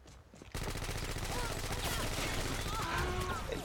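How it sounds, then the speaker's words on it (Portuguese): Video game gunfire crackles in repeated bursts through a busy, dense mix, with game sound and speech-like activity running underneath. "Olha ele dando tiro ali, ó."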